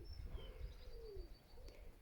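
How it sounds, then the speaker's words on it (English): Birds call in a quiet cottage garden, a soft dove-like coo and thin high chirps drifting faintly from a distance over low background hum. "Let's listen to the bird song back here."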